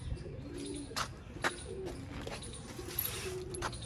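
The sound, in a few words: Ferozpuri pigeons cooing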